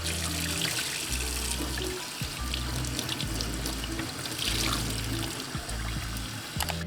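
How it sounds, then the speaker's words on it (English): Water runs steadily from a tap while dyed wool yarn is rinsed beneath it, splashing and gurgling in a sink with shifting low sloshes as the yarn is moved around. "now we just have to rinse the yarn until the water runs clear"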